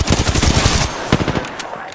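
Rapid automatic gunfire in the video game Apex Legends, a fast burst of close, loud shots in tight rhythm, then a few scattered single shots as it trails off.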